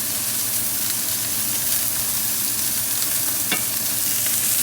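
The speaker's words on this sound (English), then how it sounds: "you're going to give your zucchinis a mix. Try and get them cooking on the opposite side" Zucchini frying in a pan alongside beef medallions, a loud, dense continuous sizzle with a brief scrape as the pieces are stirred and turned; no talk.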